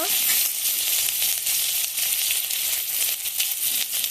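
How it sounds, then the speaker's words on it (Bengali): Cumin seeds, onion paste and garlic paste sizzle in hot oil in a pan, a loud, steady, close frying hiss that runs without a break. "তেল গরম হয়ে গেছে এখন জিরে ফোড়ন দেব পেঁয়াজ বাটা দিয়ে দেব রসুন বাটা দেব"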